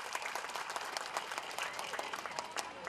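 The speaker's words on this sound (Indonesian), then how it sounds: "Iya, tepuk tangan Bapak Bupati." A crowd at a village charity event in Tangerang, Indonesia, applauds the regent with brisk, continuous clapping heard from a distance, faint overall but steady throughout the whole stretch.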